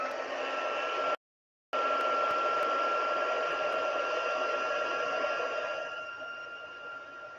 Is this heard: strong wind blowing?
no